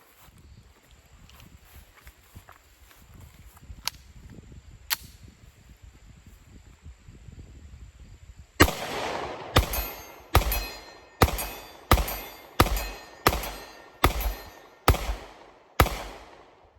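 Ten sharp pistol shots from a Staccato CS fired at a 40-yard target, evenly spaced and loud, ringing out after several seconds of quiet outdoor ambience with faint distant pops.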